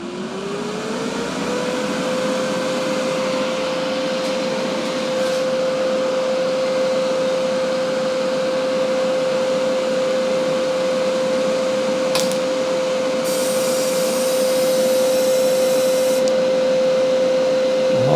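A garage welding machine for 2 mm sheet metal powers up, its cooling fan and motor rising into a steady whirring hum with a clear tonal whine that holds throughout.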